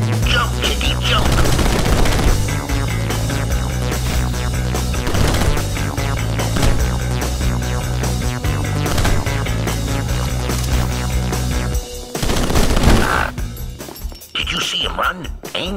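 Rapid gunfire from the video game Rocketbirds 2: Evolution rattles in dense bursts over loud, driving music, nearly continuous and heavy before breaking off briefly near the end, with a voice speaking over it.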